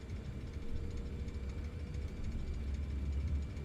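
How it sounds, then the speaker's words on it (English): Jet engines of an MD-83 at takeoff thrust in Microsoft Flight Simulator 2024, a steady low rumbling roar with a faint constant whine, moderately quiet and without speech. "Listen to these engines burning."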